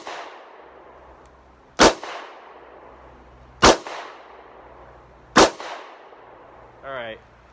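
Three sharp, loud revolver shots of .38 Special fired double action at an outdoor target, spaced almost two seconds apart. Each crack rings out and decays, and a short burst of voice follows the last one.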